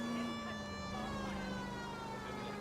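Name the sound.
police car siren in video game L.A. Noire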